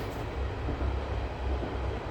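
Train going by outdoors during a walk, a faint, distant low rumble that swells slightly and holds steady for a couple of seconds with no talking.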